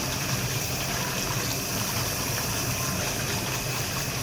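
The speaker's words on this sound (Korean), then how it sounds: "흐르는 물에 깨끗이 빨아주시면 맛있죠" Steady cold tap water runs over noodles being rinsed and rubbed clean of starch in a sink, a continuous even gush with no talking.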